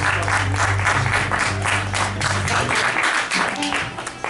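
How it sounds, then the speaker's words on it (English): Audience at a live concert applauds loudly and steadily, a dense wash of clapping over a low music drone that fades near the end. "if we could all give a big round of applause"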